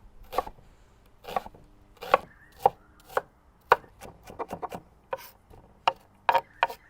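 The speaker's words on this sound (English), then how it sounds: "we're going to finally chop a red onion" A knife chopping a red onion on a board, a dozen or so crisp close cuts, slow and spaced at first and then quicker in clusters.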